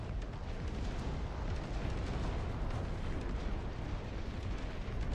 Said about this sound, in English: You can see now we have these big cannons as well that will help fire onto the enemy